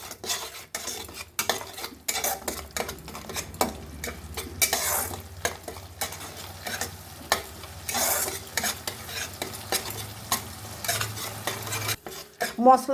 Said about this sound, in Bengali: ভালো করে মশলা কষব